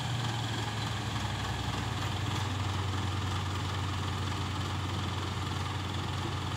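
A Ford 7740 tractor engine runs at a steady, loud, low rumble with constant vibration, heard up close and alone with no talking.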